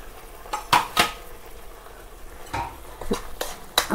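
Spiced cauliflower with chilli, coriander powder and garam masala being stirred in a pan, a spoon scraping and clinking against the metal in several sharp knocks over a faint background sizzle.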